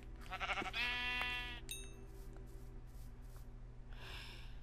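Sheep in the video game Minecraft bleat in a couple of clear, close calls near the start, followed by quieter game sounds over a steady low background hum.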